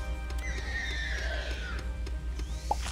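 A horse-like creature in the game Starbound gives a clear whinny that rises and trails off over about a second and a half, set against a low steady game hum with light tapping.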